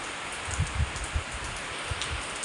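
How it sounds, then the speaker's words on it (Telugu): Heavy rain pours down steadily after a sunny morning, a dense, even hiss of drops near a tree with a few soft thuds of drops landing close by. "ఇప్పుడు వర్షం మస్తు పడుతుంది"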